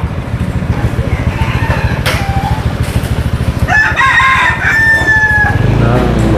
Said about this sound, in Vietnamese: mình nghe tiếng gà gáy